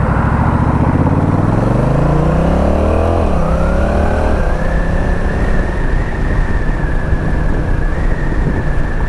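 A motorcycle commute with engine noise rising as it accelerates through the gears, loud and rushing, the pitch climbing before a shift and then settling into a steady drone of wind and road, with no talking.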